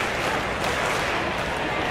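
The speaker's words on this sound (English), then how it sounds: "As the Angel fans are clapping along, trying to rev up their team" Angel fans in the crowd of the Action PC Baseball video game clapping along at a ballpark, a continuous, even wash of distant crowd clapping and murmur throughout.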